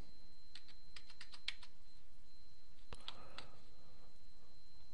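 Keystrokes on a computer keyboard while entering figures into an Excel spreadsheet: a few quick clustered clicks, then a short burst of taps after a pause, close and crisp over a quiet background hum.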